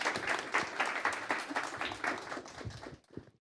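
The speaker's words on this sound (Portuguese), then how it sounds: "Palmas" Audience applause at a fintech summit panel on Pix and DREX payments, a dense wash of clapping that holds steady for about three seconds before tapering off into a few scattered claps.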